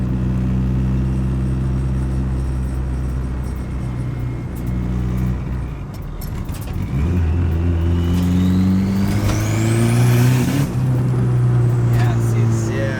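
A Nissan 240SX with a KA24DET engine accelerates hard on a test drive, its steady interior drone climbing in pitch through the gears with a shift break midway, loud and continuous from inside the car.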